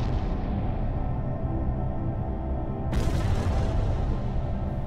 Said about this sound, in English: And you can hear it, these massive explosions that come with a shockwave.